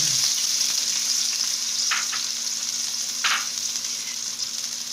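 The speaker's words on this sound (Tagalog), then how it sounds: "makalipas ang ilang minutong paggisa, ayan, kung inyong mapapansin, golden brown na yung ating garlic" Garlic fries with sauce in a pan for fish adobo, a steady close hiss and crackle with a couple of brief scraping stirs.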